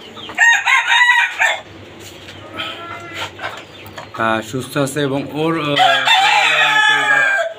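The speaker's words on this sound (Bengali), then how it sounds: "এটা হচ্ছে আমার আরেকটা লাল টাইগার মোরগ" Red tiger rooster crowing on a rooftop caged chicken farm, a loud close crow rising and stretching out near the end, with someone talking over the start.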